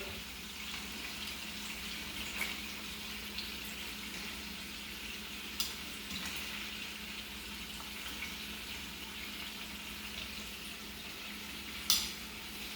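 Scallops frying in a pan of olive oil for an Italian seafood salad, a steady soft sizzle with a few brief louder clinks, no talking.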